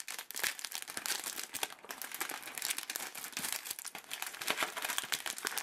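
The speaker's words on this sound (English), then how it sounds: "let's see about opening up our ghosts" Plastic packaging of Halloween Peeps marshmallow ghosts crinkles and crackles in rapid, irregular bursts close up, continuous for several seconds with no voices.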